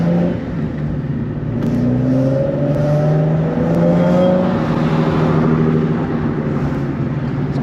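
A tuned Nissan 370Z engine revs and accelerates, its tone climbing steadily and staying loud and close throughout, with no voices over it.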